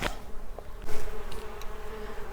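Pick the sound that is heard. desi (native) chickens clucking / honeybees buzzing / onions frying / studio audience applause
honeybees buzzing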